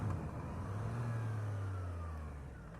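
A 2018 Triumph Street Triple RS motorcycle, fitted with a quick shifter, pulls away with a rising engine note that climbs and falls through gear changes, moderately close and steady, without talk.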